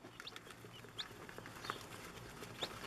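Baby chickens and quail chicks just out of the hatcher, their fluffy down dry, give a few faint high peeps and chirps over a low background hum, with no talking.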